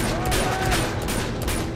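Rapid bursts of gunfire in Uncharted 2: Among Thieves rattle continuously and loudly, layered over a busy, dense background of game sound.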